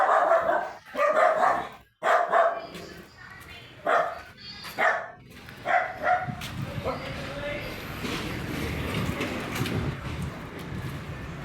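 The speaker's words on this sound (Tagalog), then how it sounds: "Dami, may mga aso." Several dogs bark at the back of a house in sharp, close bursts for about six seconds, then give way to a steadier background din.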